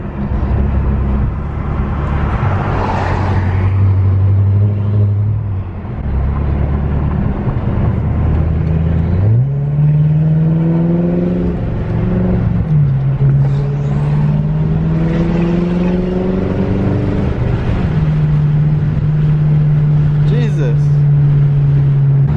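A BMW F10 M5 drives along, its engine a steady low drone with harmonics that climb and settle as it accelerates and shifts, heard close from inside the cabin.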